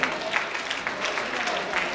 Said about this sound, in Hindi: आइए पुरजोर तालियों से इस्तकबाल करें।